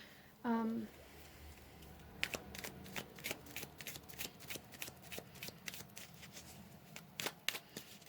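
Tarot cards are shuffled close by, a brief soft flutter followed by a run of crisp, quiet snaps and riffles, with a short vocal sound near the start.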